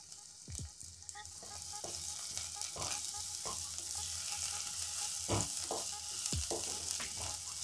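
Finely chopped ginger and garlic sauté in hot oil, a steady close sizzle broken by scattered scraping stirs of a spoon in the pan.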